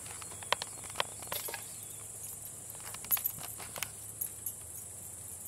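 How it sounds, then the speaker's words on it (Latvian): Crickets chirping outdoors at a rural campsite on Latvian land, a faint high steady trill running throughout with scattered soft clicks and rustles, no talk. "kur joprojām tūc circeņi"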